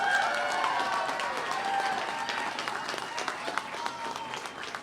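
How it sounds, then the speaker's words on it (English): Outdoor crowd applause for children at a Greek flag raising ceremony in Lowell, a moderate patter of clapping with voices and crowd noise mingled in. "Please give them a round of applause."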